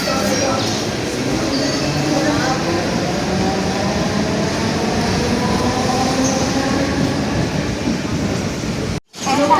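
Interior of the moving Okha Express train on the Panvel line near Khandeshwar station, a loud continuous rumble of wheels on rails with wagon rattle and faint squeal, cut by a brief dropout near the end.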